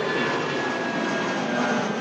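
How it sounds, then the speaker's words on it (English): British Airways A320 in retro livery rolling down runway 23R at Manchester Airport, a steady loud jet engine roar with a thin whine running through it, sustained and unchanging. "There goes the BA Retro, rolling down 2-3 right,"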